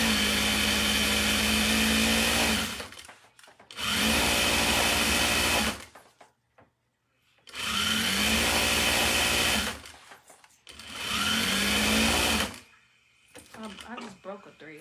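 A Juki sewing machine races through fast stitching on anklets, running in four loud, steady bursts of a few seconds each with brief stops between them.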